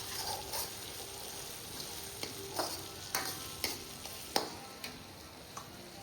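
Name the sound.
tempering with garlic, cumin and asafoetida, frying in pan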